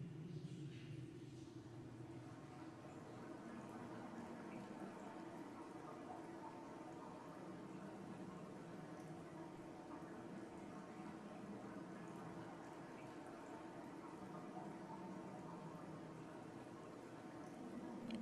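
Flowing water in Dear Esther burbles quietly and continuously, a soft, steady gurgle heard at a distance with little variation.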